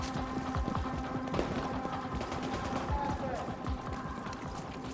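Rapid video-game gunfire in a survival game, a busy stream of overlapping shots and clatter under constant background noise, with a player's voice faintly mixed in.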